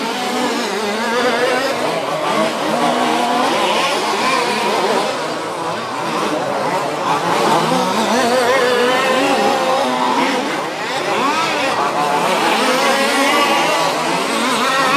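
OR6 2WD radio-controlled race cars lapping a track at a German championship final, a loud, continuous whine of small electric motors rising and falling as several cars pass close by.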